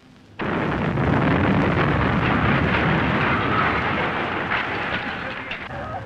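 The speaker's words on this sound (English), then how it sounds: "A street in Belfast, another bomb." A bomb goes off in a Belfast street, a sudden loud burst followed by a sustained roaring, crackling rumble that fills the scene for several seconds.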